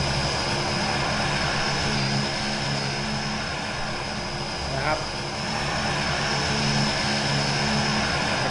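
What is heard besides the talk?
airplane engine in the video game BeamNG.drive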